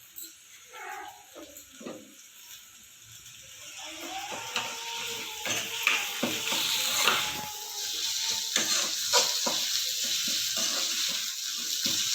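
Ingredients for a bommidi fish curry fry in a pan with tomatoes. A quiet sizzle builds into a steady hiss, with scattered clinks of a utensil throughout.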